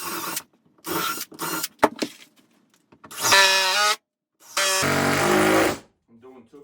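A power drill drives screws into a wooden beam of a sauna bench, with short whirring bursts building to two longer grinding runs, mixed with nearby handling knocks and brief speech.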